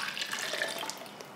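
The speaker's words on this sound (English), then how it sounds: "I'm going to add in half a cup of water" Half a cup of water is poured into a small Tribest personal blender, making a soft, steady splash that trails off over about a second and a half, with no talk.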